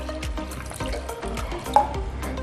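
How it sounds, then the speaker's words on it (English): Fresh water pours from a tap into a pressure cooker while making homemade tomato soup, a continuous splashing stream with small gurgles and a faint clink, steady and close. "I'm going to get some fresh water into the pressure cooker."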